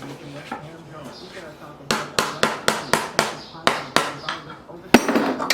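Sharp metallic hammer strikes ring out in a steady series of about a dozen blows on a horseshoe nail being flattened, close and loud, preceded by quieter handling with a voice nearby.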